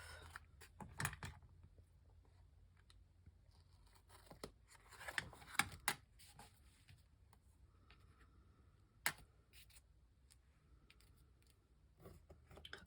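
Scissors trimming paper in a quiet room: a few faint, sharp snips scattered through long near-silence, with soft handling clicks in between.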